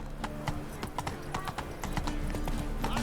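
Horse hooves clip-clop in a steady, close rhythm as a mount rides in The Witcher 3, with game ambience running underneath and no talking.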